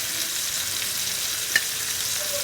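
Pork chops frying in a pan, a steady close hiss of sizzling fat throughout with one brief sharp tick partway, no talking.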